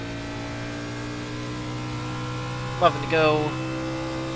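A NASCAR stock car in the iRacing sim at Darlington holds a steady, droning engine tone under throttle, with a voice briefly speaking over it.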